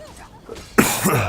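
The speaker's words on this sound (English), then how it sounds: "Sorry for coughing in the mic." A single harsh cough bursts out close to the microphone after a moment of quiet, loud and rasping.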